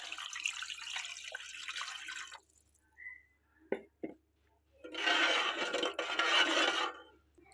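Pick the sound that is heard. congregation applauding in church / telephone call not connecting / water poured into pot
water poured into pot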